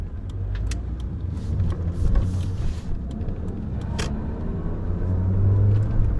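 Ford Puma car driving on a road, its engine rumbling steadily up close with a brief lift and surge as it changes gear partway through, low and continuous throughout.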